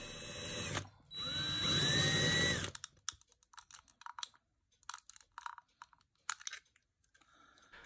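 A drill whines loudly for a couple of seconds, drilling out the post of a diecast model car, followed by small scattered clicks and taps of handling the model, close and fairly quiet.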